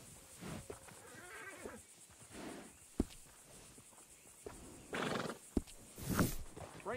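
A horse in the video game Red Dead Redemption 2 whinnies loudly among clopping hooves and sharp knocks, with a second louder neigh near the end.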